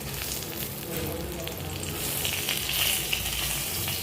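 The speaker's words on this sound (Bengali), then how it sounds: "আর এইটুকু তেলের মধ্যে আমি দিয়ে দেবো কালো জিরে আর একটা তেজপাতা" Black cumin seeds and a bay leaf sizzle in a little hot oil left over from frying cauliflower, a dense continuous crackle that swells slightly partway through, close and with no talk.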